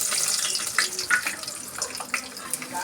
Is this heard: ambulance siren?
no